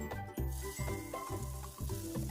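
Butter melts in a pan for homemade ghee, giving a soft, steady sizzle with gentle bubbling and faint stirring scrapes, close and quiet, with no voices.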